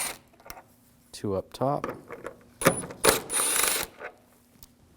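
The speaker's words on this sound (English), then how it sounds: "We're going to take these screws out. Use a T30 socket." Screws on a 2007–2013 BMW 328i headlight assembly are backed out with a T30 socket, giving close ratcheting clicks and short metallic bursts interleaved with a brief spoken remark.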